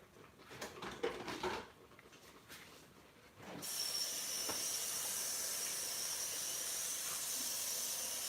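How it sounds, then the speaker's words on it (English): A pot of rice boils too hard on a home stove, a faint, soft bubbling that gives way to a steady, even hiss for the rest of the clip. "I'm going to turn it down some because it's boiling too much."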